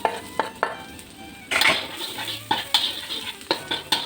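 Garlic hitting hot oil in a wok, a sizzle that swells midway amid clanks and scrapes of a metal utensil against the pan, close and busy with no talking.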